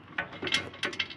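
Bolts with lock washers being tightened on a Corvair Greenbrier van, a few quick ratcheting clicks in short bursts, close and fairly quiet.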